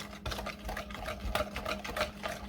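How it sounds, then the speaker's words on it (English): Whisking garlic parmesan wing sauce in a bowl makes a continuous, close scraping and swishing with rapid rhythmic strokes, steady at moderate loudness with no talking. "we're going to whisk all this together"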